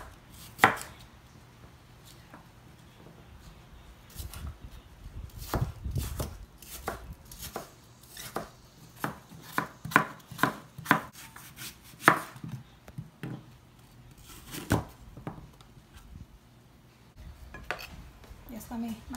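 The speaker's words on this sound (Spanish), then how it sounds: "Le voy a cortar las manzanas" A knife chopping apples into small pieces on a board for a fruit salad, a series of sharp, close knocks in an uneven rhythm, with soft kitchen handling between cuts.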